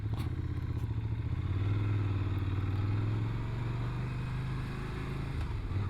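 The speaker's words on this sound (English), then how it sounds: "Nice burble to it." A Ducati Scrambler Desert Sled motorcycle engine burbles at low revs with a steady, rumbling, pulsing tone, close and continuous, slightly easing off toward the end, with no voices.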